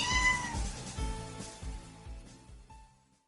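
A cat meows several times in a close, insistent run of repeated cries that gradually fade into silence.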